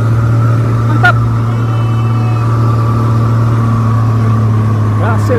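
A Mitsubishi 6x2 truck labors uphill with a loud, steady low engine drone, strained and constant, while brief horn-like tones and faint voices sit in the background.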